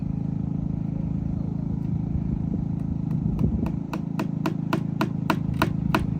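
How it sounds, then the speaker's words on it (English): A generator runs steadily in the background with a constant low hum outdoors in Talkeetna in November, while sharp rhythmic tapping, like hammering or chopping, comes in partway through and speeds up toward the end. "And you can hear the generator running in the background."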